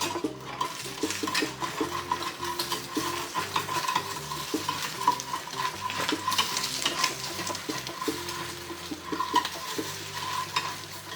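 Fried eggs lifted out of a sizzling pan while cooking Dominican mangú, with continuous frying crackle and repeated clinks and scrapes of a utensil against the pan, close and fairly loud.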